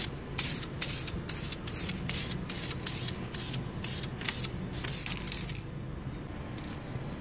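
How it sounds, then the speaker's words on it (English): Short repeated bursts of hissing spray from an aerosol can, close up, in a steady rhythm of quick passes, painting a BMW E90 335i brake caliper. "So now we're gonna spray the caliper."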